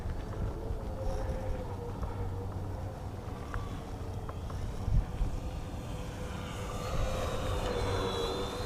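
An EC-1500 Twin 1.5m RC airplane flies overhead, giving a steady distant motor drone that swells slightly as it passes, mixed with faint wind noise.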